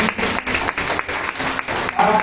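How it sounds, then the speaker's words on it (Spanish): Church congregation clapping loudly in praise, dense applause broken by a few short rhythmic pauses, with voices faintly mixed in beneath the clapping. "Dale fuertes aplausos al Señor."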